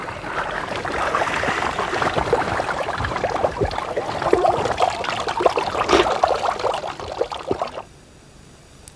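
A forest stream in Garajonay on La Gomera, Canary Islands, trickles and splashes close by in a busy, bubbling flow that drops abruptly near the end.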